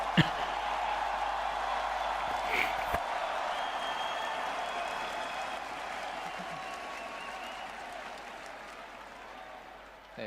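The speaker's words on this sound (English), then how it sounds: "He was waiting for the applause." Faint, steady applause and crowd noise from an esports finals audience at the League of Legends Worlds 2024 T1 vs BLG event, continuing evenly throughout and slowly fading.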